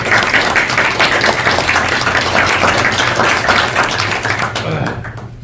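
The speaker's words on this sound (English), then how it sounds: "please give a round of applause to all of our guests today." Audience applause for guests at a meeting, a loud, dense clatter of many hands clapping steadily over a low hum, fading near the end as a voice comes in.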